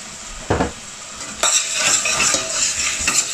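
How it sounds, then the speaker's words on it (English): Onions cooking in oil in a pan over low-medium heat, a steady bright sizzle with a few sharp utensil knocks and scrapes against the pan, close and fairly loud, no voices. "I'm going to caramelize the onions into the oil."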